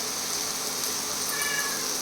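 A cat meows indoors, one soft call heard faintly over a constant hiss of background noise, with no speech.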